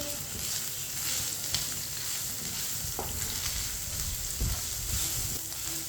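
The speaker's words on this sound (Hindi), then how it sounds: "नमक डाल के मैंने मिक्स कर लिया है।" Chicken pieces seasoned with salt frying in a pan for chicken macaroni, giving a steady, close, dense sizzle with occasional scraping stirs of a spoon throughout.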